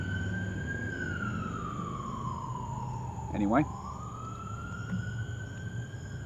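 An emergency vehicle siren wails steadily in the city, a single long tone sliding slowly down then back up, moderately distant, with a brief spoken word breaking in partway through.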